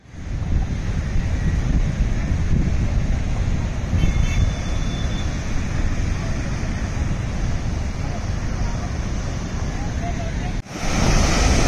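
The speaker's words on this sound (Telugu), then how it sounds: "గాలి మాత్రం చాలా ఎక్కువ వస్తుంది" Strong wind buffeting the microphone at RK Beach in Visakhapatnam in the evening, a loud continuous roar mixed with surf, with a brief dropout near the end and a voice speaking over it.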